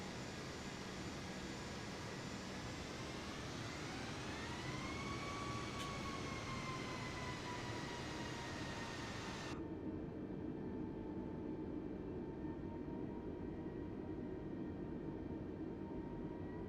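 An Airbus A320 airliner rolls for takeoff in a flight simulator game, a steady loud jet engine roar with a slowly rising whine that holds throughout, its brightness dropping off partway as the sound continues.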